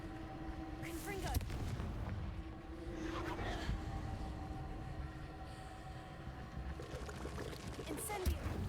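A Confringo blasting spell strikes rocks in Hogwarts Legacy, a brief booming blast over a steady rumbling game backdrop, with a second hit near the end.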